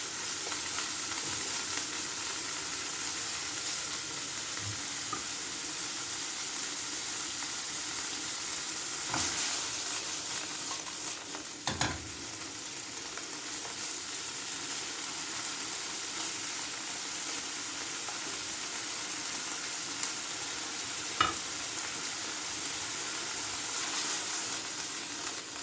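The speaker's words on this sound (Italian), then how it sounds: "lascio rosolare un attimo" Swordfish pieces browning in a hot pan for a Sicilian pasta with aubergine give a continuous soft sizzle, with a few sharp crackles and spatula clicks scattered through, and no talk.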